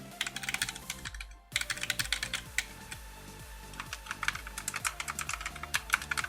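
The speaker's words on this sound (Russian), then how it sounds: "Здесь звук, в принципе, идет от соприкосновения кейкапа и самой лицевой панели." Fast, steady typing on an A4Tech Bloody B820R mechanical keyboard with red switches, each keycap bottoming out against the top plate in dense clicky bursts, with a brief pause near the start, close up and alone.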